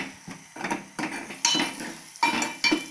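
Moong dal (pesara pappu) stirred with a spoon in a pan, giving repeated scraping clinks at a steady rhythm, close and clear with no talk over it.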